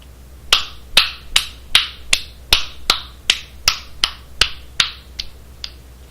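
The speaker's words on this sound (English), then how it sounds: "That's me clapping, by the way, if it sounded weird." A single person claps hands in a steady rhythm, about fourteen sharp, close, crisp claps spaced roughly half a second apart in a quiet room.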